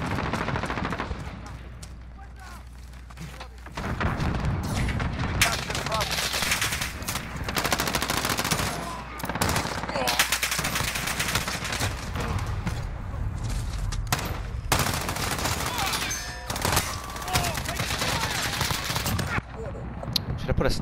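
M4A1 assault rifle in a video game firing in sustained, dense automatic bursts, loud and close, with brief pauses between strings of shots and faint background game sounds.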